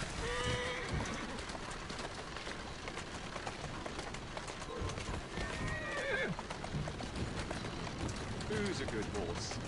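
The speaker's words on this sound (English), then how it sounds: "good horse. You are." A horse in the Assassin's Creed Syndicate video game, with steady clip-clop hooves and several whinnies and neighs across a busy city street scene where birds chirp and voices murmur.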